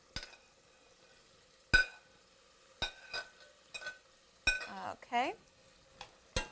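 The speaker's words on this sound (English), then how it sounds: "And we want to let this saute together." Celery, olives and capers sauté in tomato sauce, with a quiet sizzle broken by sharp spoon knocks against the pan and brief stirring scrapes; a voice says a single word.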